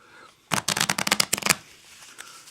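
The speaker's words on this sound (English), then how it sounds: "now I'm going to go ahead and shuffle the deck" A deck of playing cards being shuffled up close, a burst of about a second of rapid crisp riffling flicks, then quiet.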